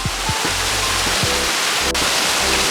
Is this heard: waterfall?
yes